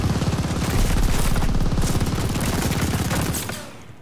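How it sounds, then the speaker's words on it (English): Dense, rapid automatic gunfire from Call of Duty: Vanguard rattles loudly and continuously, then trails off near the end. "Chill out all them bullets, bro."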